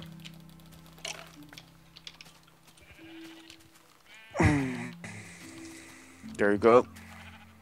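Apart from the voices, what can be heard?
sheep bleating in the video game Minecraft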